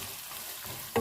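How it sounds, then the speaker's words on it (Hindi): Onions going into hot oil with browned garlic and ginger for chana mash dal, a steady low frying hiss with a brief louder clatter at the end. "साथ ही प्याज डाल देंगे। प्याज को हम फ्राई कर लेंगे।"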